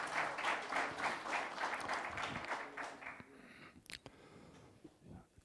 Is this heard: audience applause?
yes